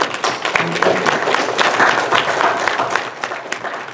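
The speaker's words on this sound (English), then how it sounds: "I think we all owe them a round of applause for this" Sustained applause from a room full of people at a township supervisors meeting, dense clapping at steady loudness throughout with a few faint voices mixed in.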